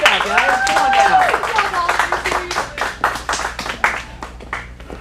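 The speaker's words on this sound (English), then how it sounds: "Let's give a round of applause." An audience at a kids' acting studio showcase applauds young child actors, with cheering and voices at first, then a run of quick, close hand claps that gradually thin out.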